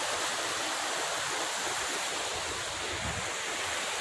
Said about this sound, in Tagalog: Look, the Seven Falls.